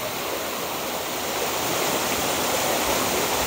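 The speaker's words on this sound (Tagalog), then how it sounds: "Yan po yung tubig galing sa loob ng cave." Water pouring out of Puning Cave near a hidden lagoon in Bulacan, a loud, steady rushing roar like a small waterfall that fills the whole stretch without a break.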